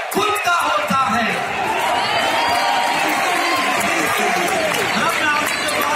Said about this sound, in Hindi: अच्छा हमको ताली बजाने की गुजारिश है।